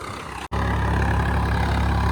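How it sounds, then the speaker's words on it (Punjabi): A Swaraj 855 tractor's engine runs steadily nearby, a deep, even idling drone that cuts out for an instant near the start before continuing unbroken. "ਟਰੈਕਟਰ ਦੀ ਆਵਾਜ਼ ਆਵਾਜ਼ ਬਹੁਤ ਘੈਂਟ ਹੈ"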